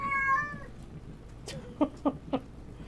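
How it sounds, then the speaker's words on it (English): A cat meow serves as a train whistle in the Railroads Online video game: one long tonal meow at the start, then three short chirpy meows near the end, all fairly faint. "We don't have a horn, we have a cat instead."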